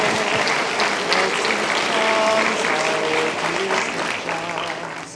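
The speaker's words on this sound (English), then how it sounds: "There should be an applause for that announcement." An audience at a university State of the University address breaks into sustained, dense applause that holds steady before gradually tapering off, with no speech over it.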